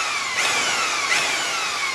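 A power drill set to 1200 RPM spins a mixing paddle through dry Veneziano plaster, giving a steady, loud whirring grind with no speech.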